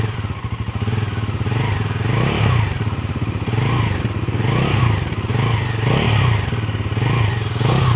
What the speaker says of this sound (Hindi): आइडल कंडीशन पर साउंड इसका कुछ ऐसा है।